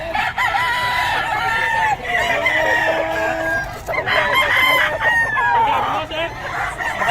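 Roosters crow and chickens cluck at a poultry market, several long drawn-out crows rising and falling close by over a busy background, with people talking.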